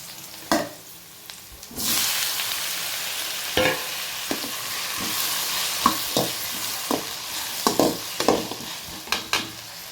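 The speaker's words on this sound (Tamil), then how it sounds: "வெங்காயமும் பச்சை மிளகாயும் வதக்கிட்டுருக்கேன்." Onions and green chillies sauté in a pan with a steady sizzle, broken by repeated sharp scrapes and clacks of a stirring spoon, close and without talk.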